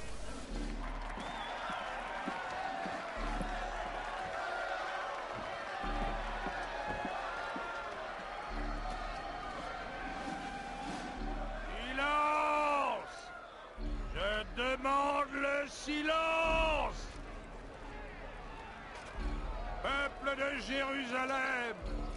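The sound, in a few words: crowd murmuring in a square, from video game Assassin's Creed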